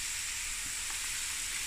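Ginger hits hot oil for a meaty curry, giving a steady hissing sizzle that holds evenly through the brief moment, close and unaccompanied by speech.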